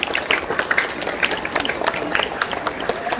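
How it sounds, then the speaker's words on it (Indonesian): Students and staff clap at a school flag ceremony, with steady scattered hand clapping that carries through the whole stretch without voices. "tepuk tangan untuk yang bertugas hari ini."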